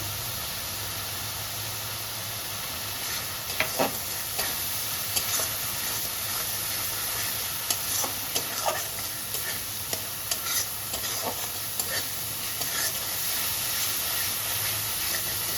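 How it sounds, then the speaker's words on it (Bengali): Ground spices with chili powder and turmeric fry in a pan for a pointed gourd and shrimp curry, a steady close sizzle broken by repeated scraping stir strokes. "মশলাটা ভালো করে কষতে হবে যাতে কাঁচা মশলার গন্ধ যেন না থাকে"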